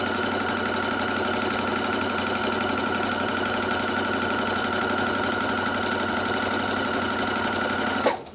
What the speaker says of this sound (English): now I'm sewing on the opposite side because I've rotated my chain stitching pieces